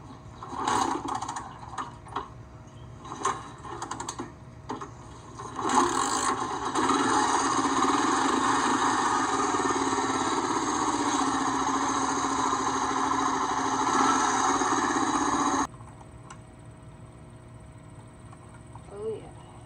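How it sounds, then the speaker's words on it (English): A Honda Big Red three-wheeler engine starts up and runs at a steady, fairly loud idle for about ten seconds before cutting off. Brief knocks and voices come before it. "And we're going to the three-wheeler. It's a big red Honda."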